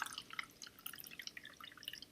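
Turmeric juice is poured into a witch bottle, a light trickling stream of splashes and drips against glass, steady and fairly faint, with no talking.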